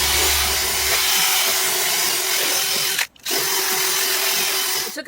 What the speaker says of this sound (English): We've used our drill brush.